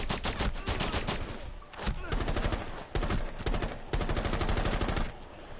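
An unsuppressed AR-33 rifle in Rainbow Six Siege fires loud, close bursts of rapid automatic shots separated by brief pauses, sharp and cracking with no talking.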